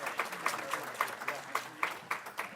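A small audience at a school board meeting claps together in a steady, moderately loud round of applause, with individual claps distinctly audible in a regular rhythm.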